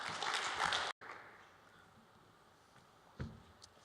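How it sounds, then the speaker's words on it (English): A conference audience at Inside Bitcoins Berlin 2015 claps to welcome a speaker. A dense burst of applause lasts under a second, then cuts off abruptly and leaves a quiet room with a faint thump. "Let's give him a big round of applause"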